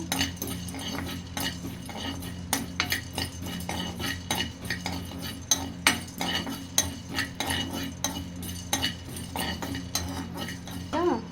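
Peanuts dry-roasting lightly in a pan, with a steady rattle as they are stirred and frequent clinks of a spoon against metal, close and continuous.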